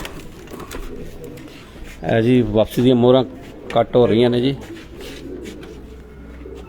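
Pigeons coo on a rooftop in two short runs of throaty, warbling calls, moderately close, while someone talks quietly nearby.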